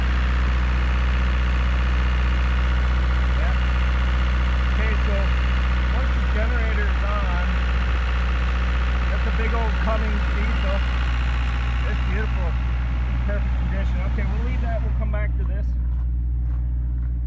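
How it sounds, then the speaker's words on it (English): The generator of a 1991 Newell coach runs with a steady low drone throughout, loud and constant, while people talk over it. "you got your generator started"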